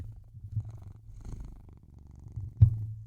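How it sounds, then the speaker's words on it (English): A cat named Bullet purring softly up close, a low steady rumbling rhythm that rises and falls with its breaths, with a brief bump near the end. "you got a little purr."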